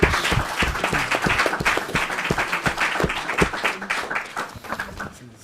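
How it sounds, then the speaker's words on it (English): Attendees at the Healthwatch Norfolk annual general meeting applauding a panel, with loud, dense clapping from many hands that stays close and steady before tapering off at the end. "if you could just give a round of applause to both sets"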